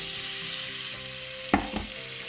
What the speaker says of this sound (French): Quand l'huile est chaude, je mets les poivrons